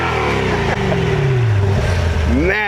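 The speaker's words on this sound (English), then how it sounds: "Here's a better startup. That was on quiet mode, this one's loud." A 2020 Chevrolet Corvette C8 set to loud mode fires up with a loud, close roar whose pitch sweeps down as the revs settle, then climbs again in a sharp blip at the end.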